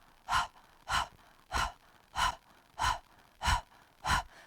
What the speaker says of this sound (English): It's a little bit of a panting breath.